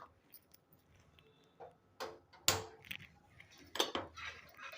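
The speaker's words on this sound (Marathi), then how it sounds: "मी गॅस पेटवते" A gas stove igniter clicks several times in a home kitchen, sharp dry ticks spaced irregularly, with faint metallic clinks between them and no one speaking.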